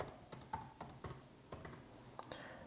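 Typing on a computer keyboard: a series of irregular, crisp key clicks and taps spread over a few seconds, close and fairly quiet, with no voices.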